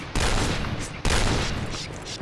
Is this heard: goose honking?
no